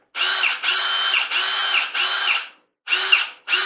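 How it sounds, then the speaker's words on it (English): A Ryobi cordless drill driver whirs in five bursts, four close together then a pause before the last, each with a steady motor whine. "This is just a drill driver."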